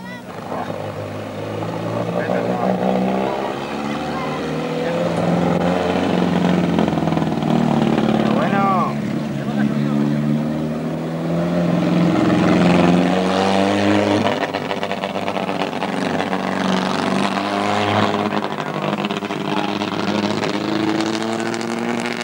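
A rally car engine on a dirt rally stage near Navalcarnero, Spain, in 1999 drones and grows louder as it approaches, its pitch rising and falling with gear changes, while spectators talk excitedly over it.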